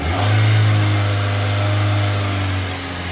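A car engine revs up from idle and holds a loud, steady mid-range roar for a few seconds before easing back, heard alone at close range.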